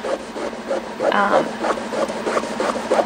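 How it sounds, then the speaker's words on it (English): A wet top layer is rubbed off a mixed media canvas, making rhythmic scrubbing strokes that swell and fade in quick repeated passes, close and fairly loud. "So I'm going to go ahead and kind of saturate the whole thing so I can get the top layer off quicker"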